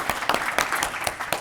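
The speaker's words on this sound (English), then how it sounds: "Let's have a round of applause for the other runners-up and all the submissions." An audience at an innovation award ceremony claps for the runners-up, producing brief, dense applause with sharp individual claps close by and no voices.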